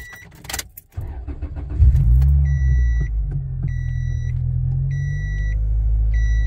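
A Scion xA car with a swapped 2ZZ-GE engine, unstarted for about a month, cranks and catches, then settles into a steady low idle, with a chime beeping repeatedly in the background.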